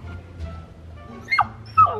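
A frightened dog reacting to someone in a scary mask gives two short, sharp yips or barks near the end, close by, over a low rumbling background.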